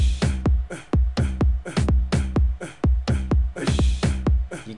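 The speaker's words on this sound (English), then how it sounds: "So far, just the kick, it sounds like this." Repetitive gqom kick drum pattern for a South African electronic track, heavy booming kicks hitting in a steady broken rhythm, loud and alone with no other instruments.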